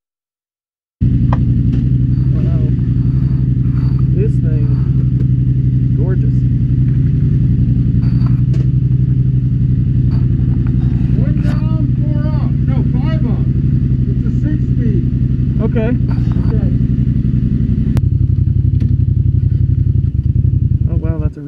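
Yamaha MT-07 motorcycle engine idling and revving up close, a steady loud rumble with some rev changes and clatter, while a rider talks over it.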